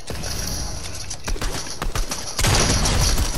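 Rapid bursts of video game gunfire crackle in dense, continuous volleys, swelling louder toward the end.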